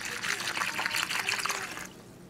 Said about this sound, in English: So I'm gonna do half of this bottle of water.